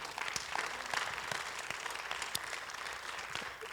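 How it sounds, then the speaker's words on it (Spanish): A church congregation applauds during a pastor's sermon, producing a steady, dense wash of many hands clapping at moderate volume, sustained throughout without speech. "Denle un aplauso al Señor."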